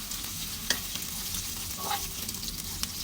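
Ginger and garlic sautéing in a pan for a malunggay dish, a soft continuous sizzle with a few sharp scrapes and taps of the spoon stirring, fairly quiet and close, no talk.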